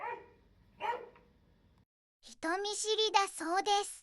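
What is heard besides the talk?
dog barking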